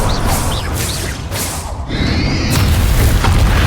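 Game explosion spell Bombarda cast in Hogwarts Legacy, a dense boomy blast with whooshing magical effects, loud and continuous through the moment amid combat noise.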